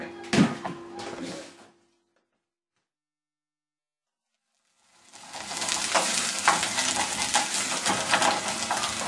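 Veggie mince sizzles and fries in a pan while being stirred, a loud steady crackle that cuts out into a silent pause of about three seconds before the frying and scraping return full and close.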